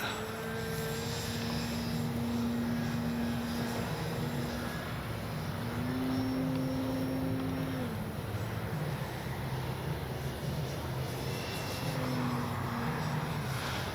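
A Dynam Tiger Moth RC biplane with wing rigging is flying, its electric motor giving a steady droning buzz. The pitch rises and falls with throttle changes, heard outdoors over constant wind noise.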